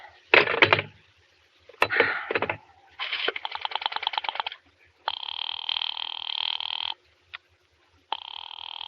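A 1940s radio-drama telephone sound effect: short bursts of bell-like ringing and clicking as a phone is dialed repeatedly, each burst separated by quiet gaps, close and clear with no talking.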